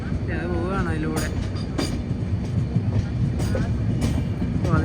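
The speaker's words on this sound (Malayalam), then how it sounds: "റേണിഗുണ്ട ജംഗ്ഷൻ റെയിൽവേ സ്റ്റേഷനിലേക്ക് ട്രെയിൻ എത്തിക്കൊണ്ടിരിക്കുകയാണ്" A Vivek Express train rolls into Renigunta Junction station, a steady loud rumble of carriages with clattering wheels and brief high squeals, while people talk nearby over the noise.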